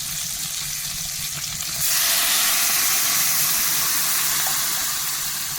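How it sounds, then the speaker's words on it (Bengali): Water poured over fried fish in a hot pan for a simple banana and fish dish, a soft sizzle that suddenly swells into a loud, sustained hissing steam burst and holds steady, close up with no talking. "আমি এখানে মাছের উপরে জল দিয়ে দেবো"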